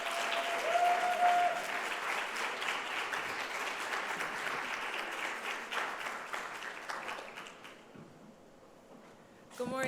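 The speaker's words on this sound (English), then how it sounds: "So we could give Anchelle a round of applause." A university audience at a Black Lives Matter Day morning session applauds a student speaker. The clapping is sustained and moderately loud, then thins out and fades near the end, ending with a brief thump and a voice.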